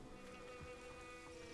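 Insects buzzing in a greenhouse in the Hogwarts Legacy video game, a faint, steady, continuous drone with a fine whining hum and no talking.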